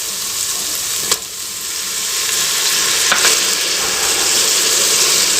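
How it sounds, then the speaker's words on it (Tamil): Two large finely chopped tomatoes stirred into a hot sizzling masala, a loud continuous frying hiss close by with a couple of spoon scrapes against the pan. "தக்காளி உள்ள சேர்த்துட்டு இந்த மாதிரி மிக்ஸ் பண்ணி கொடுத்துட்டு"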